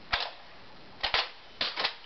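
Nerf blasters firing during a game, three quick clusters of sharp snapping shots, mostly in pairs, close and fairly quiet with silence between them.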